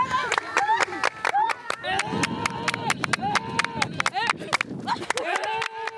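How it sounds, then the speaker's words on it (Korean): Himba villagers in Namibia clapping a rhythm while dancing, sharp close handclaps in quick irregular bursts mixed with singing and chanting voices. "박수로 박자를 맞추며 홀짝홀짝 뛰는데요"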